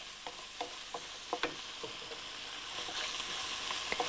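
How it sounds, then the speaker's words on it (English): Fried rice stirred constantly in a pan over a high flame, a steady close sizzle with repeated sharp scrapes and clacks of the spatula. "absolutely high flame, and keep stirring it constantly"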